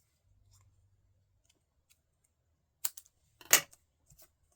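Scissors snip through the paper ends of a card-making frame piece, giving a few short crisp cuts followed by one louder, longer slicing cut, close by in a quiet room.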